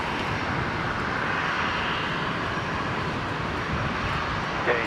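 A QantasLink Dash 8 Q400 turboprop departs Brisbane airport, its engines a loud, steady broadband roar that holds evenly throughout with no talk over it.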